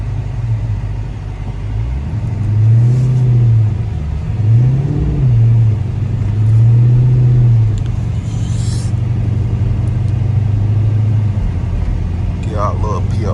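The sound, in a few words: 2012 SRT 392 car driving in snow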